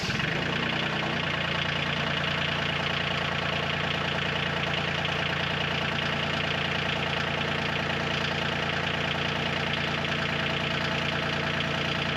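A Bobcat CT2025 compact tractor engine idling after a fluid service, a steady even diesel chug running continuously and moderately loud with no talk over it.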